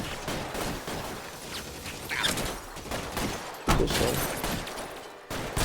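Gunfire in a shootout in the video game L.A. Noire: scattered, overlapping shots crack repeatedly over a noisy battle background while someone speaks briefly.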